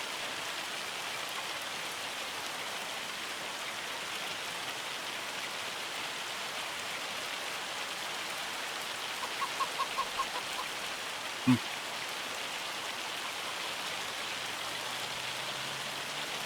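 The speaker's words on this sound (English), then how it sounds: "Look at the hail coming down." Hail falls in a Farming Simulator game as a dense, constant hiss of pattering ice, steady and even throughout, with a brief sharp knock near the end.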